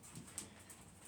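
A dog whimpers faintly indoors in a home, with a few soft, brief high whines over quiet room noise.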